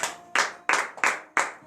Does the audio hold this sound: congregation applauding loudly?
yes